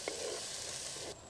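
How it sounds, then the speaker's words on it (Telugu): Ginger paste with turmeric sizzling in a hot pan, a steady bright hiss that runs for about a second and then cuts off abruptly. "వేసుకుని ఈ అల్లం పేస్ట్ వేసాం కదండి, దీని పచ్చివాసన పోయే వరకు బాగా వేయించుకుందాం."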